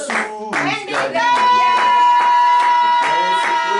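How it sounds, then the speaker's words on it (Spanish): A church congregation claps in steady rhythm for the Lord during a prayer service, the beats falling about twice a second over loud singing and music that carry on throughout. "denle un aplauso al preciosa Señor, por favor."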